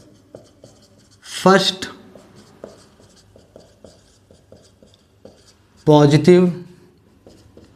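A hand writing out a Class 10 maths factorisation solution, with quick scratchy strokes and taps running steadily throughout, interrupted twice by a person speaking.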